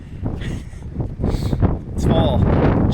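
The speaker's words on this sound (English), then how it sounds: "The wind is just way too much today." Strong autumn windstorm gusting around a solar shed, with loud, steady wind buffeting the microphone and rising in strength toward the end, while a person speaks over it.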